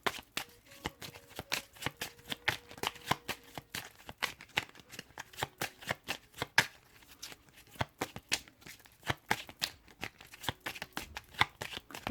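Tarot cards being shuffled and drawn, rendered as a long run of crisp, close, quiet card riffles and slaps in irregular quick bursts with no talking.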